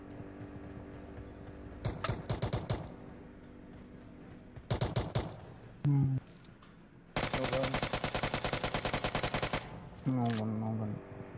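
Automatic gunfire in a competitive shooter video game, with several bursts of rapid shots followed by one long sustained burst, interspersed with short synthetic effect tones and quieter gaps.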